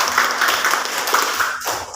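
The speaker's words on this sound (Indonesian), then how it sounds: "Tepuk tangan buat Keisha." A brief round of scattered clapping from a small group, fairly close and lively, fading slightly toward the end.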